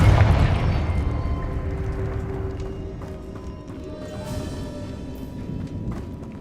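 A Confringo spell explosion bursts in Hogwarts Legacy, with a loud booming onset that fades into a long, rumbling decay.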